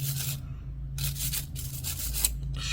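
A brush scrubs dirt out of a metal nail tool in short, close rasping strokes with brief pauses between them, over a steady low hum.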